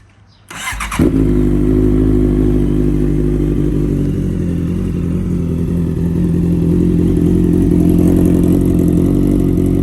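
A 2015 Honda CBR650F sport motorcycle with a full aftermarket exhaust cranks and catches after about a second, then settles into a loud, steady idle with occasional light revs, close by.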